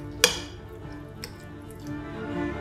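A spoon stirs omelette mixture with sour cream, parsley, chives, salt and pepper in a bowl, giving one sharp clink against the bowl followed by faint, soft stirring noises, with no speech.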